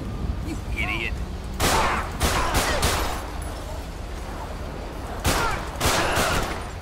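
Gunfire in a GTA 5 police mod game during a snowy sheriff patrol shootout, with two loud bursts of rapid shots separated by quieter stretches, plus faint game sounds in between.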